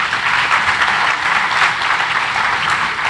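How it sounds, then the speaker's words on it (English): Sustained applause from the audience at the World Non-Formal Education Forum 2019 for a panel moderator, an even, full wash of many clapping hands with no break throughout. "a big round of applause for our moderator"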